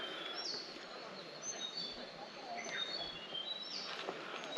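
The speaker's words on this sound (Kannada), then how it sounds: "ನೋಡ್ರಿ ಎಷ್ಟು ಪಕ್ಷಿ ಸೌಂಡ್ಗಳು ಕೇಳೈತಿ." Several birds chirp and whistle in short, high calls scattered across a quiet outdoor background, fairly faint and somewhat distant.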